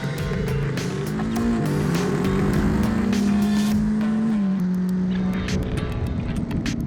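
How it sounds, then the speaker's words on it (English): A KTM 250 Adventure motorcycle's engine revs while on the move, a loud, steady drone whose pitch climbs, holds high through the middle and then eases back down, close and continuous without talk. "On the move, the 250 Adventure has an eager to rev engine"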